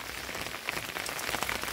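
Rain falls steadily on a garden, a dense, even patter on leaves and soil with occasional louder drops and no voices.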